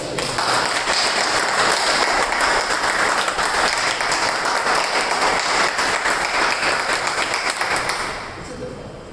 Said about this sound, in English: let's have a big round of applause for Toastmasters